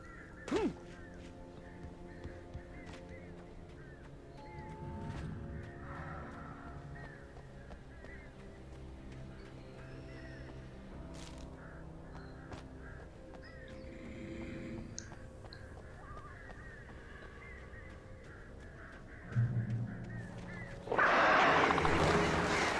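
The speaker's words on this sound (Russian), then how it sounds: "Ну, птички." Crows caw intermittently in a dim outdoor scene of the video game Alan Wake, set over a steady low ambient drone, with a louder burst of noise near the end.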